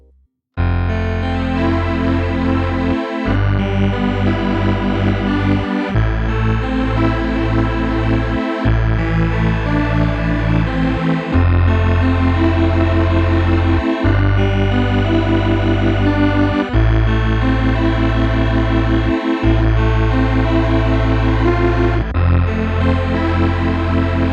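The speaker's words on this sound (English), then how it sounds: "I'm also going to be doing a little bit of pitch shifting, but just slightly, so we get kind of a chorus effect" Loud distorted instrumental music through a DISCORD 4 stereo pitch shifter pedal, slight pitch shifting giving a thick, detuned chorus shimmer, repeating chords in steady phrases with brief gaps between them.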